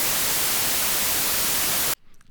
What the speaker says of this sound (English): I'm going to move along over here to white noise